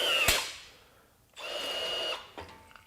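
Milwaukee 2660 M18 FUEL cordless rivet gun pulling a long stainless steel rivet: a sharp snap as the mandrel breaks, then two bursts of the tool's motor whirring as it cycles, close and loud.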